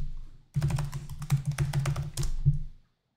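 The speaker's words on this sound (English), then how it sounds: "Type yes in capital letters and a password twice." Fast typing on a computer keyboard during an Arch Linux setup, a close run of clicking keystrokes lasting about two seconds before silence, no voices.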